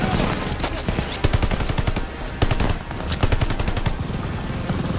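Rapid machine-gun bursts from a World War II battle in Call of Duty Vanguard, loud and close, with repeated volleys of gunfire and a brief pause midway before firing resumes.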